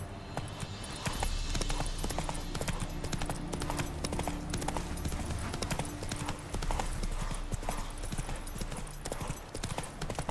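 Roach the horse gallops in The Witcher video game, a continuous close rhythm of hoofbeats over game ambience and low music.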